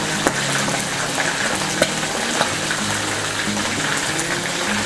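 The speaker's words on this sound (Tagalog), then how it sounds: "habang hinihintay po natin na maluto yung pritong isda" Fish frying in hot oil in a pan, a dense, steady crackling sizzle with occasional sharp pops, close and continuous with no voices.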